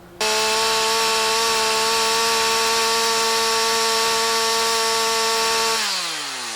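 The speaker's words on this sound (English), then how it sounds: "you fire it up, you rev it up, and you point it at something that you can see" A chainsaw starts abruptly and runs at a steady high rev, loud and close, holding a constant pitch for several seconds before winding down at the end; no talking.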